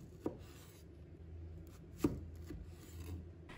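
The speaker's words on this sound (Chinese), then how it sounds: "西红柿叶子全部摘掉以后，把它对半切开" A kitchen knife slices a tomato in half on a cutting board, giving two distinct sharp chops about two seconds apart over a quiet, low room hum.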